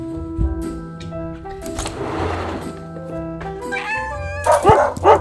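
Several small dogs yip and bark in short, excited bursts, some high and whiny, over music or background tones, growing louder toward the end.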